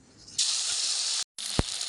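Blended tomato hits hot oil in a pan for a Bengali potol dorma curry, a loud bright sizzle that bursts up, cuts out briefly, then resumes with a sharp pop.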